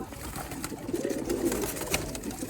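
Pigeons, including black-faced birds, coo in a dense overlapping murmur close at hand, a steady soft warbling chorus with no talk.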